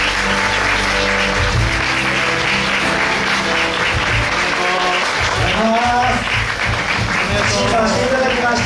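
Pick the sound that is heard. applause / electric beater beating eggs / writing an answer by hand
applause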